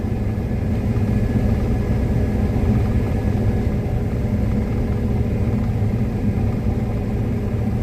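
Combine harvesters mow a wheat field, their engines producing a steady low rumble with a constant mid-range drone, moderately close and unbroken, with no talk.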